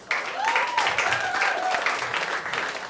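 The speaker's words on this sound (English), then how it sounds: "Give a round of applause for yourselves." Audience applause at an underground comedy club show, a steady burst of clapping for nearly three seconds with a few voices calling out over it.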